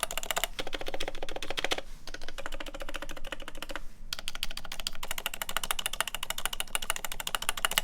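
Rapid, dense clatter of typing on a stock mechanical keyboard with long keys. Close, crisp keystrokes come in quick bursts with brief pauses between runs.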